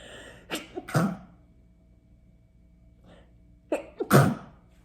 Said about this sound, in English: speaking of projects, I'm gonna sneeze.